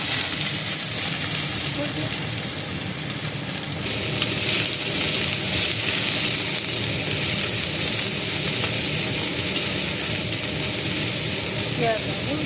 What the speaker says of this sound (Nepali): फर्स्टमा हामीले पहिला यहाँ जिरा पकायौँ, पछि यहाँ प्याज हाल्यौँ